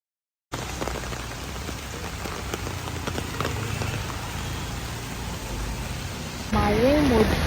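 Steady rain falls in Bangalore, a dense, close hiss that starts abruptly and holds even throughout, growing slightly louder near the end, where a brief voice is heard.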